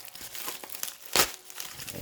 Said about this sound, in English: let me try and rip this open.